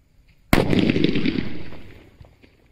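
A single loud medium-size sutli bomb firecracker blast goes off after a moment of quiet, a sharp bang trailing into a rumbling, crackling echo that slowly fades.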